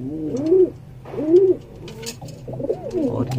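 A pigeon coos close by in repeated rounded calls, three phrases spaced about a second apart, clear with little else around it.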